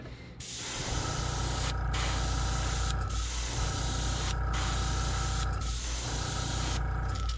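An airbrush hisses steadily at low pressure, around 12 psi, spraying gold paint over a custom crankbait fishing lure, with short pauses between bursts and a close, continuous airy spray.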